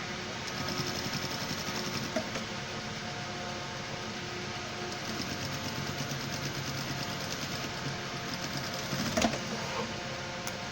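A sewing machine stitches a pant leg at a steady pace, its needle chattering in an even mechanical rhythm with no breaks. The motor hums constantly, close and moderately loud, and no one talks.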